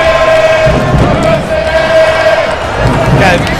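A large crowd roars steadily through the stands at a Portland Timbers soccer match, close and loud, with whoops and chants layered into the continuous din and a brief dip partway through.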